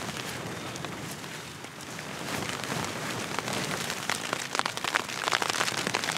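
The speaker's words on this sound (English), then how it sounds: "It starts raining." Steady rain patters densely on a surface in the mountains, a constant close hiss with scattered louder drops and no voices.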